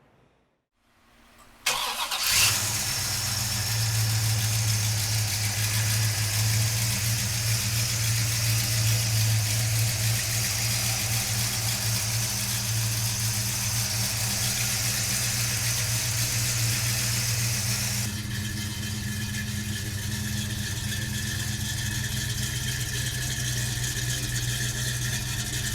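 A 1968 Pontiac GTO with a 400 cubic inch engine cranks briefly and fires into a loud, steady idle, a deep rumble that continues unbroken and settles slightly lower near the end, close by with no talk.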